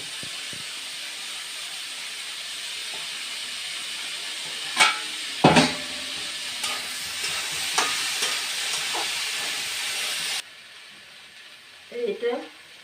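Dried chilli, chopped onion and chilli fry in a pan with a steady sizzling hiss, broken by a few louder stirring clatters. The sizzle then drops away and brief faint sounds follow.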